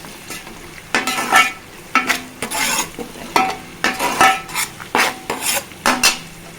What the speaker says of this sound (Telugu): ఇప్పుడు పుదీనా వేసుకోవాలండి కలుపుకోవాలి